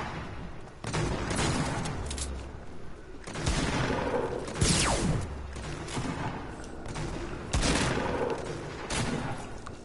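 Video game gunfire crackles in dense, loud bursts of rapid shots that come in waves for the whole stretch, with small pauses between volleys.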